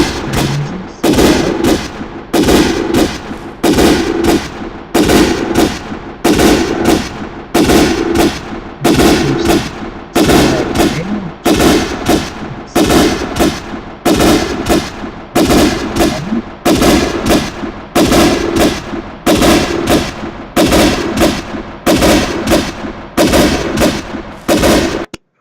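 Rapid bursts of gunfire from a video game battle simulation, loud and continuous, with repeated volleys of shots in a steady rhythm running throughout without any talk.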